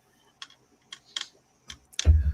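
Computer keyboard typing in a few quick, sparse keystroke clicks, close and clear, ending with a louder thump at the end.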